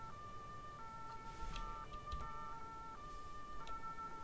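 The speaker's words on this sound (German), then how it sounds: "die spielen schon wieder mit der Sirene rum" A fire engine siren in Farming Simulator 19 wails in a repeating two-tone pattern, fairly faint and distant, with a few soft clicks and no voices.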